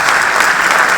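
A large audience applauds steadily at a conference, welcoming IMF Managing Director Kristalina Georgieva to the stage. The dense, loud clapping continues without pause.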